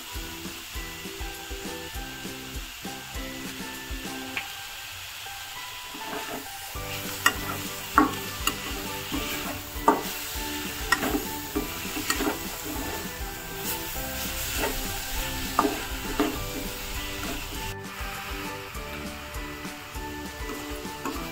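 Jaggery modak filling cooked in a pan as ghee is added, with steady sizzling and repeated scraping strokes of a spoon, plus occasional sharp knocks of the utensil against the pan.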